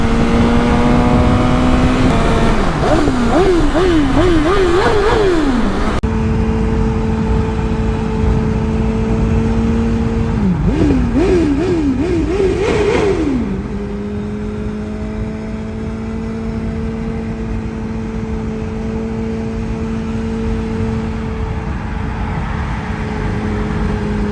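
A BMW S1000RR superbike engine held at a loud steady drone, then revved through quick rising and falling pulls twice, settling back to a sustained high whine and wind noise.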